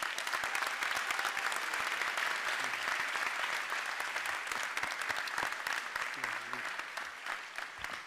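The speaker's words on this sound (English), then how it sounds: "Please join me in applauding his accomplishments." Commencement applause for a medal honoree at the TouroCOM Harlem ceremony: a dense, even patter of many hands clapping, fairly distant and soft, holding steady before tapering slightly toward the end, with no voices over it.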